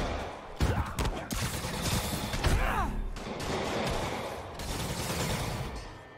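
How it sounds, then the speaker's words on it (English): Gunfire in the Spider-Man Remastered video game, a dense burst of rapid shots and crashing impacts running loud through the whole stretch with a few sharper blasts early on, under layered game noise. "Can you stop with the shooting?"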